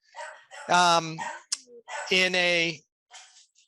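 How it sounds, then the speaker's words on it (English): A pet dog barks in two loud, close bursts, each a short run of sharp yaps, in a quiet indoor room, with a brief click between them and a fainter trailing bark at the end. "My dog's going to bark here in a second."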